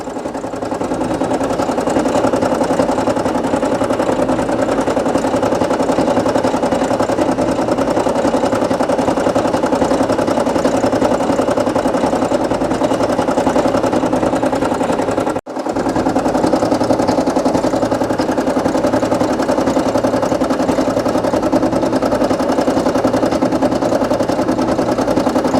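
A Brother PE800 embroidery machine stitching a PlayStation logo patch, a steady loud mechanical whir with rapid rhythmic needle chatter running continuously, broken by one very brief pause midway.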